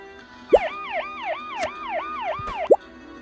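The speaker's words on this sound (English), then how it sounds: "Are there sirens outside?" Sirens outside, a wailing emergency siren sweeping up and down repeatedly in a steady cycle, moderately loud, with two brief sharp knocks near the start and end.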